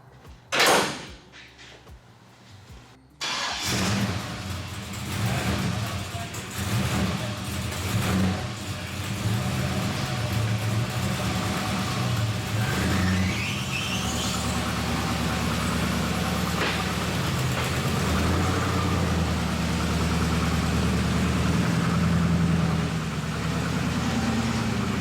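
A Chevrolet C10 truck with an AWD chassis swap and 4L80E transmission clunks with a door sound, then its engine starts and runs with a steady idle rumble and occasional revs, close and loud.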